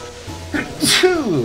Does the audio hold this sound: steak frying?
no